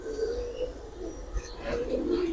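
Pigeons cooing softly and continuously in a loft, a low steady murmur of several birds, fairly faint with no talk over it.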